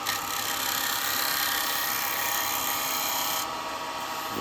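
A small chisel cuts a wooden bowl turning on a lathe, giving a steady, continuous rasping scrape close by that runs without pause, shifting slightly in tone near the end.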